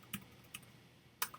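A computer keyboard is tapped three times in a sparse rhythm while an email is entered, crisp close clicks over a quiet room.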